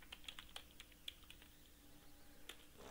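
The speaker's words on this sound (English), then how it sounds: "Type the password." Quiet, close keystrokes on a computer keyboard as a password is typed, a short irregular run of light taps with brief pauses, heard alone at low level.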